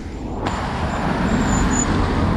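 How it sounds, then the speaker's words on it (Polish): Semi-trucks rolling past on a road: a loud, continuous rumble of heavy engines and tires close by, with a brief bright hiss near the start. "I teraz jak dwa tiry jechały, to jeden się musi zatrzymać, drugi przejeżdża."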